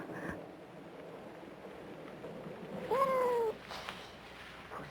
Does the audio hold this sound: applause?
no